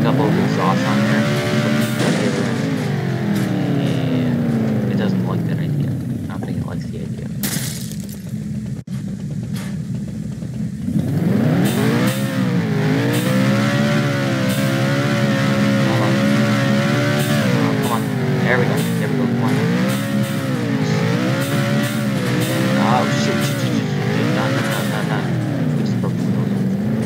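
A car engine in BeamNG.drive, fitted with a couple of added exhausts, revs loud and close in rising and falling sweeps, dropping away for a few seconds midway before climbing back into repeated throttle blips.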